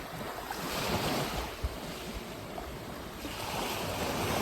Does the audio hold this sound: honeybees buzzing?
no